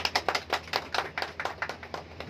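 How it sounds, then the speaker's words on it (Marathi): An audience claps to welcome a political party appointee, a quick run of sharp, irregular hand claps, fairly close and moderately loud, with no talk over them. "सर्वांनी टाळ्या वाजवून स्वागत करा।"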